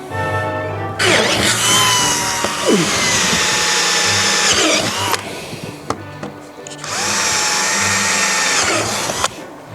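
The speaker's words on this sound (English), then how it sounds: "Now we've got to drill some holes in the bottom." A power drill whines loudly in two long bursts, drilling holes in the bottom of a large flower pot, with a brief pause between them.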